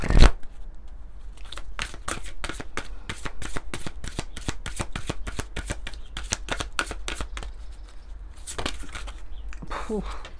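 A deck of Sacred Traveler oracle cards is shuffled in a fast, even run of crisp riffling flicks for about eight seconds, close and fairly loud, with a few rougher shuffles near the end.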